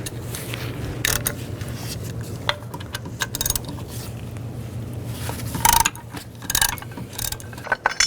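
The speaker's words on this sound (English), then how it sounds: "Use an 18mm socket. Loosen up these bolts." A ratchet with an 18mm socket loosens the bracket bolts on a 2010-16 Buick LaCrosse during a serpentine belt job. Close, scattered mechanical clicks and brief metallic bursts sit over a low, steady hum, with no talking.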